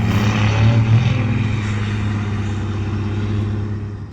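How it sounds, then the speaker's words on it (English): A 1993 Dodge W350 pickup with a compound-turbo 12-valve Cummins diesel drones with a deep, steady engine rumble, loud at first and gradually fading slightly as it drives away. "Let's listen to it real quick as it drives away."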